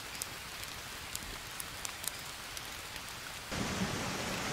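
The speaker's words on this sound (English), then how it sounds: "Oh no, a storm." Steady rainstorm hiss in the survival game Green Hell, with scattered thunder crackles and brief cracks, the downpour swelling louder near the end; no talking.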